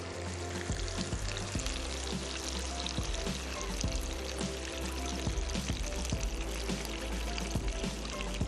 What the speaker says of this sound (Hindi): और अब मैं इसमें शामिल करूंगा पानी।